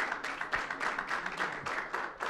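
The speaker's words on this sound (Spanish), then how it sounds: "le vamos a dar un aplauso de ánimo a los cuatro expositores" An audience at a physical education conference applauds four student speakers, a steady pulsing wash of many hands clapping at moderate volume, heard from a slight distance with no talk over it.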